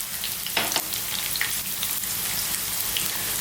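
Red onions and a little celery fry in corn oil, a steady close sizzle with crackling throughout and a few brief stirring clatters near the start.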